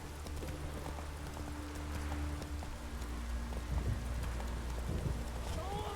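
Hooves of a galloping horse in The Witcher 3 video game beat in a quick steady clip-clop rhythm throughout, moderately loud over soft ambient game sound, with a faint snort near the end.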